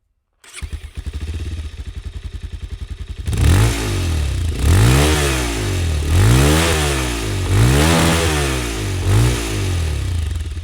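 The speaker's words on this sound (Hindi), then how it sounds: "आपको इसका एग्जॉस्ट नोट सुनाता हूँ" A 2026 Bajaj Pulsar 220F motorcycle idles with a steady, close exhaust thrum, then is revved repeatedly in five loud rising and falling bursts that drop back to idle between each.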